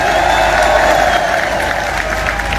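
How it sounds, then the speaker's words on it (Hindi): A large crowd applauding loudly at an outdoor poetry recital, dense continuous clapping with scattered cheers, loud and close, sustained throughout. "एक बार जोरदार ताली करौली प्रशासन के लिए"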